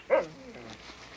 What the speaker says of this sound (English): Dogs pull the sleds and help track the seal.